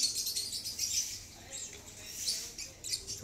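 Small birds chirp and tweet in a pet shop inside a Jaipur mall that also sells rabbits, a busy overlapping chatter of high, quick calls continuing throughout over indoor background noise.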